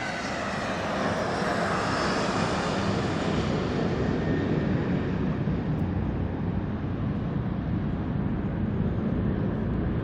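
A jet airliner roars steadily on its takeoff run at Las Vegas airport, a loud, continuous broadband engine rumble close by that holds its power for the whole stretch with no talking over it.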